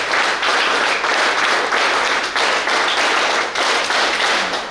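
Loud, close audience applause at a ceremony of the 2000th alcohol de-addiction camp in Deralakatte zone, Mangaluru taluk, with dense clapping that swells and dips but carries on unbroken for nearly five seconds, no voices over it.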